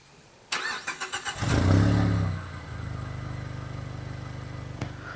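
A Mazda3 BP engine with stock exhaust cranks with a quick series of starter pulses, catches with a rise in revs, then settles into a steady, even idle.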